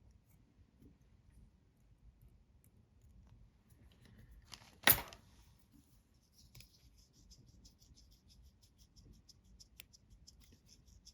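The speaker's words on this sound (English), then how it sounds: "I am going to cut the tag end of my thread off" Scissors snip a thread tag end at a fly-tying vise, a single sharp, quiet click standing alone in an otherwise near-silent room, followed by faint tiny ticks.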